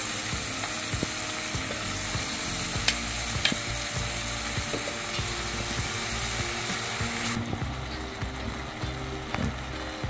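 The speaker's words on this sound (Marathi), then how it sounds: "मी इथे 200 ग्रॅम मुगाची डाळ भिजत घालून घेतलेली आहे, ती घालून घ्यायची" Soaked moong dal, about 200 g, hits a hot pan for a spicy Nagpuri dal kanda, giving a steady, close sizzle throughout with occasional clinks and scrapes of stirring.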